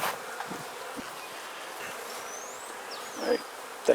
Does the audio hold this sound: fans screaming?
no